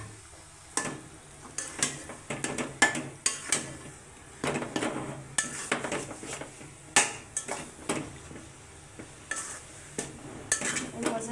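Halwa being stirred in a pan with ghee: a spoon repeatedly scrapes and knocks against the metal in an uneven, busy rhythm, with a soft sizzle underneath, close and moderately loud.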